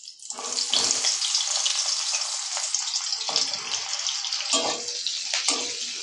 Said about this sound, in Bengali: সেই মাছ ভাজা তেলে দিয়ে দেব বড় বড় করে কোচানো পেঁয়াজ